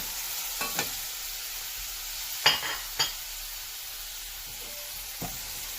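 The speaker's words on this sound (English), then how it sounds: "put in the peppers and the onions. Just stir it in there." Green peppers and onions fry in a pan for arroz con gandules, giving a constant soft sizzle broken by several short scraping strokes of stirring.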